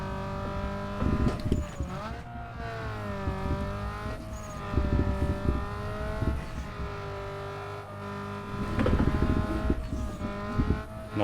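A drift car's engine in a video game revs hard again and again, with rising and falling whines, bursts of throttle and brief tire noise, loud and close.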